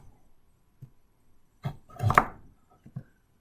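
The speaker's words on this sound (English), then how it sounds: "Cut thin slices off it." A kitchen knife cuts thin slices from a vegetable on a chopping board for chicken and veg soup, heard as a few soft, isolated close taps followed by a short burst of slicing and board knocks.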